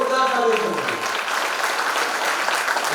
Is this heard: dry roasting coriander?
no